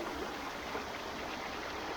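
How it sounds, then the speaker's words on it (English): A very pretty waterfall on a walking trail pours in a steady, even broadband rush of falling water, constant and moderately near, with no voices over it. "So it's a very, very pretty waterfall."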